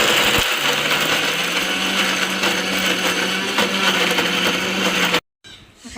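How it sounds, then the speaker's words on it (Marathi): A mixer grinder coarsely grinds raw mango chutney with a little water: a loud, steady mechanical whir and rattle that runs without a break, then cuts off abruptly near the end, leaving a brief quiet tail. "आता हे आपण मिक्सरला थोडं जाडसरच वाटून घेऊया आधी"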